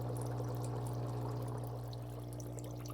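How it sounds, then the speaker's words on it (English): H&B Luxuries portable foot spa massager running with heat, bubbles and vibration, feet resting in the water. A steady, close motor hum sits under continuous fizzing, bubbling water throughout. "So here's the spa unit in operation with my feet in the water"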